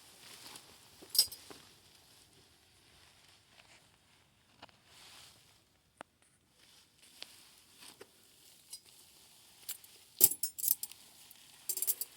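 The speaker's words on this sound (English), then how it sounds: "he's gonna hand me the suture scissors" Metal surgical instruments clinking during an open appendectomy as suture scissors are handed over, scattered faint clicks and sharp chinks in a quiet room.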